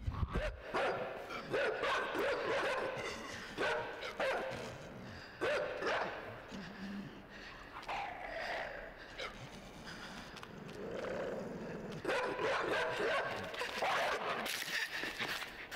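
A dog barks repeatedly in the video game INSIDE, sharp separated woofs and yips spaced across the stretch at moderate distance, with quiet game ambience between them.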